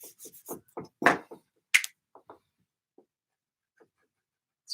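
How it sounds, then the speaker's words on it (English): A classroom board being wiped with an eraser, heard as a handful of short, close rubbing strokes in a quick burst, thinning to a few faint isolated swipes amid quiet. "So I'm going to erase this."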